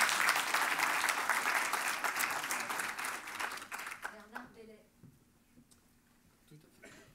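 An audience at a French digital-trust conference applauds the president of the FNTC: steady, full clapping from a large room that thins out over about four seconds into near silence.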